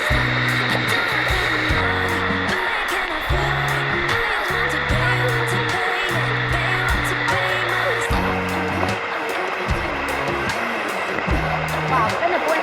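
Bua Thong sticky waterfall in a Chiang Mai forest sends up a steady, full roar of rushing water, while several people chat and laugh nearby over the constant wash.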